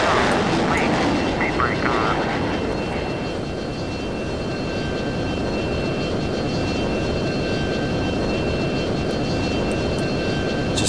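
A steady, loud jet roar from an F-22 landing on a runway in the flight sim F22 Total Air War, a continuous engine drone throughout.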